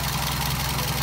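A Toyota Vios engine idles through an aftermarket exhaust, a steady low rumble that holds even and close for the whole moment, ending in a brief sharp click, with no voices.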